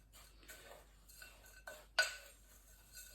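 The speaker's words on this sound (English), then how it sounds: "We'll mix in the nuts and the dried fruit, give it a nice good stir around" Seeds, nuts and dried fruit being stirred together for a seedcake, giving soft scattered clinks and scrapes in a bowl with a few sharper taps, fairly quiet with no talk.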